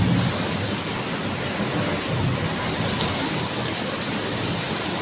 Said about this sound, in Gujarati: વીજળીની તો ધબધબાટી ચાલુ થઈ હો.